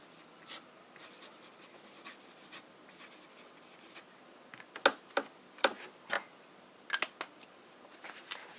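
Fountain pen nib scratching across paper with Private Reserve Tanzanite ink, faint steady scrape early, then sharper, louder scratchy strokes as the pen is pressed hard, irregular and close.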